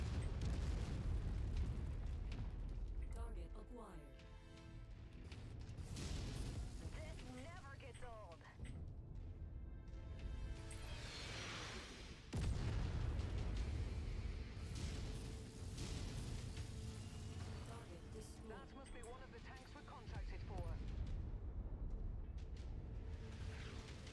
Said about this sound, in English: we got a lot of artillery to deal with